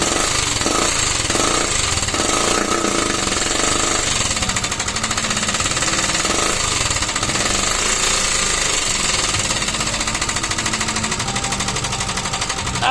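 A restored Motorstar classic motorcycle engine runs at close range, making a loud, rapid, continuous clattering rattle that keeps an even pace throughout with no voices.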